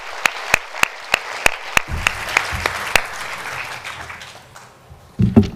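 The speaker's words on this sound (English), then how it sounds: "can we give a huge round of applause to Sophia, the humanoid robot?" An audience gives a round of applause for the humanoid robot Sophia at a live event in Australia, starting as a few sharp, separate claps and swelling into a sustained clapping crowd before tapering off.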